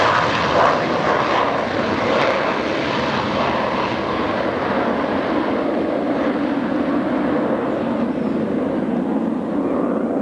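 US Navy Blue Angels jets performing at the 1996 Cleveland National Air Show, a loud, sustained roar lasting throughout, slowly thinning as the aircraft pull away.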